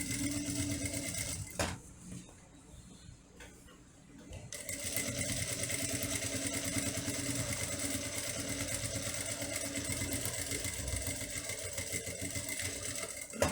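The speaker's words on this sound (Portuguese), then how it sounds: "Bem devagarzinho, que é para ficar uma costura bonita." A sewing machine stitches a fabric wallet slowly and evenly, its motor whirring and needle chattering close by, pausing briefly before running on continuously.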